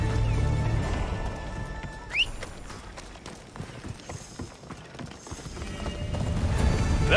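Horse hooves gallop in Assassin's Creed Odyssey, a quick, close clip-clop rhythm with a short rising whinny early on and a layer of game ambience underneath.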